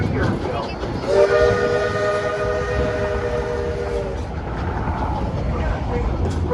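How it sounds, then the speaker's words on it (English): Georgetown Loop Railroad locomotive 40 sounds a long steady multi-tone whistle over the rumble of the moving train, lasting about three seconds before fading back to rolling rail noise. "As locomotive 40 pulls our train through this last curve, we'll be arriving at our North Loop Yard and Depot."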